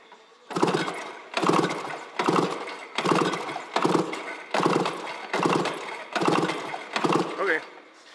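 A 1998 Ski-Doo MXZ 500 snowmobile engine, type 494, cranks over on the clutch-side cylinder during a compression test, giving eight steady, evenly spaced bursts of loud, close mechanical churning.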